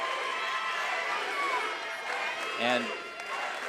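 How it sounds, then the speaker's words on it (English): A packed gym crowd roars and chants at a girls' state championship basketball game, a sustained wash of cheering with a brief whistle-like shout standing out, while a commentator talks over it. "just hearing the crowd, Peter, I keep hearing SPC"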